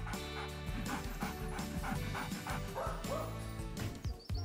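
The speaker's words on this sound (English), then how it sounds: "Wow, this dog is beautiful." A dog yips and whimpers repeatedly in quick bursts over a busy, music-like background, fairly faint overall with an uneven rhythm.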